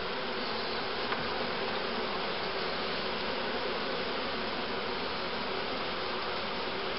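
Honeybees from an opened hive during a colony check, a dense, even buzzing drone that stays close and loud without pause, with no voices.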